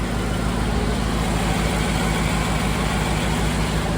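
A Land Rover 90 engine idles steadily with its cooling fans running, a dense continuous rumble and whir heard close up with no break over a few seconds.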